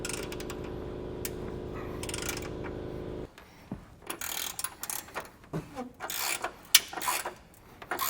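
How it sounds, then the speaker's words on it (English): Ratchet tightening hardware on a Roadmaster Direct-Connect base plate on a 2025 Jeep, a steady mechanical whir giving way to bursts of rapid clicking and metallic rasps, close and alone. "you may need to use a wrench and then a ratchet on the back side of that, just to keep it from spinning while you tighten it down"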